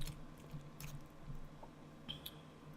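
Close, quiet chewing on crab stuffed black tiger shrimp, soft wet squishy bites in an uneven rhythm, with no talking.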